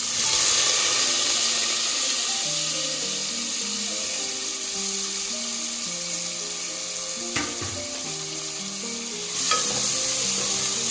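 Two medium onions, chopped very fine, fry in hot oil for chicken masala, a steady close sizzle running throughout with a couple of sharp spoon knocks against the pan and no talking.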